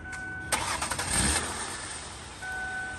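An older stick-shift car's engine cranks briefly and then fires up, settling into a steady idle. The start is sharp and close, with no talking.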